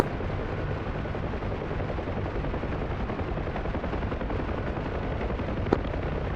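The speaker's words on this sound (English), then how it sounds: "they are currently firing up at us" Enemy gunfire in the DCS combat flight game, firing up toward the player's aircraft: a dense, unbroken roar of rapid shots that holds steady throughout, with one sharper crack near the end.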